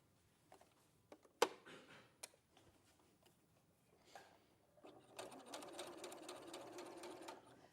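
A domestic sewing machine stitching along a line, a rapid close mechanical whirr building after a few scattered clicks and knocks, with no talk over it.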